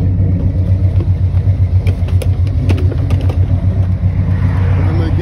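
A Chevrolet Monte Carlo SS cruising on back roads gives off a loud, steady low engine rumble from inside the cabin, with faint clicks and rattles over the drone.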